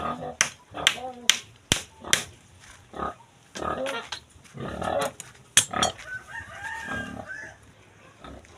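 Pig grunts and squeals from a backyard pig pen, mixed with a rooster crowing and hens clucking nearby. The animal calls come in loud, sharp bursts with quieter stretches between them, and people's voices are heard in the background.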